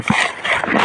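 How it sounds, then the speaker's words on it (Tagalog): Farm guard dogs at a rambutan orchard give a short burst of yips and whimpering barks, close by and fairly loud, with no talk over it. "Ito yung mga magigiting namin aso."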